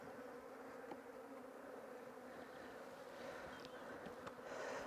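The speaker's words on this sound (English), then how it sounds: "So again, another frame with emerging bees on that side." Honey bees buzz around a beehive frame with emerging bees, a steady soft drone of many wings close by with occasional louder individual passes.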